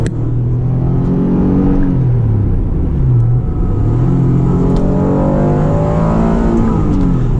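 An Acura NSX sports car is driven hard through a run of turns, its engine droning loudly close by and rising and falling in pitch with each shift and throttle change.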